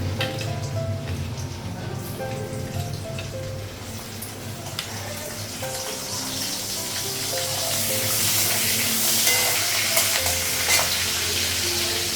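Panch phoron spice mix and green chilies fry in hot oil in a home kitchen, a continuous close sizzle with occasional stirring that swells louder toward the end.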